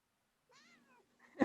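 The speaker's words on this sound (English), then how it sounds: "oh, yeah, that's a cat." A cat meows close by in one drawn-out, wavering cry, then lets out a short, sharp, much louder yowl right at the end.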